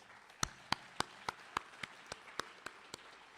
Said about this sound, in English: Can we please give them a special round of applause?